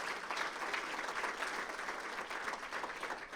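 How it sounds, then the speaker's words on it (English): An audience at a regional chamber of commerce event gives a steady, continuous round of applause, dense clapping heard from a moderate distance throughout. "Give her a big round of applause."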